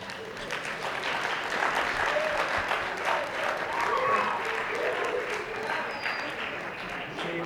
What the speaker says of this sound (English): Save the applause for the end of the night.